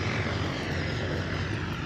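A fixed-wing plane takes off some distance away, its broad, steady engine roar rumbling on without a break and no voices over it.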